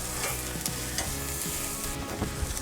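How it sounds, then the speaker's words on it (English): Chicken wings sizzle on a grill in a steady, loud crackling hiss with sharper pops and spits breaking through, close up and continuous without any voices. "Continue to turn your wings till they get some nice grill marks"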